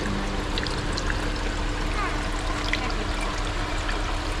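A small decorative fountain in a farm market shop trickles water in a continuous, close, even splashing stream that runs through the whole moment.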